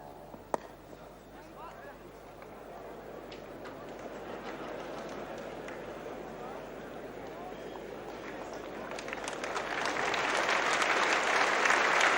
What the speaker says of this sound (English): the buzz that started at 11 o'clock when the umpires came on is still with us here at Lancaster Park from the big crowd